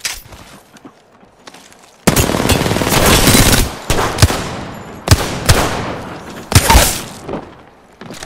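Bursts of automatic gunfire and single shots crack loudly in Apex Legends, arriving in several rapid volleys with short pauses between them after a quieter opening.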